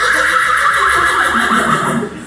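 A horse neighs loudly and continuously in a pantomime, a shrill whinny with wavering pitch that carries through the whole moment and fades slightly at the end, with no talk over it.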